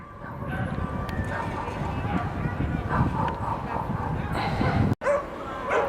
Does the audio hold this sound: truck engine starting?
no